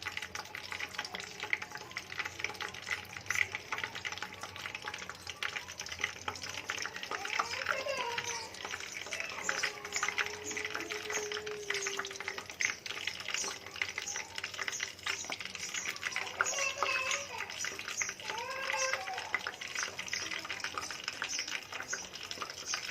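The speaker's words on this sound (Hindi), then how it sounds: "ऑयल हमारा गर्म हो गया है, तो अब इस पर डाल देते हैं पकौड़े।" Spoonfuls of pakora batter for mathi pakore drop into hot oil and fry, a dense continuous crackle and hiss at close range, with a voice and other voices faintly underneath.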